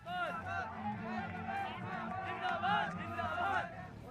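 A large crowd of Mayawati supporters waits at a political rally in Bulandshahr, Uttar Pradesh. Many voices chatter and murmur nearby in a continuous hubbub, with individual speakers rising above the babble now and then.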